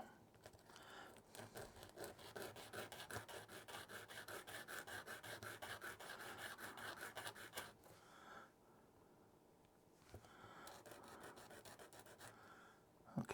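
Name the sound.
cleaning off a sanding stick by rubbing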